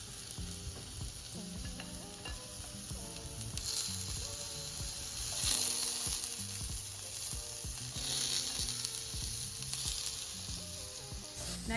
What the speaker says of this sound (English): Let's put the tofu in the pan now because it's really hot.